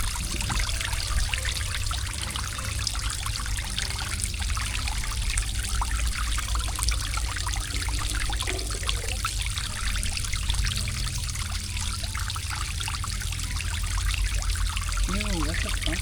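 Water trickles steadily from a public drinking fountain on a street in Venice, Italy, a close, continuous splashing stream with faint city ambience behind it.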